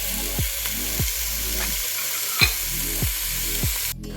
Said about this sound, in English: so in the same pan, we are going to go ahead and add in the sausage.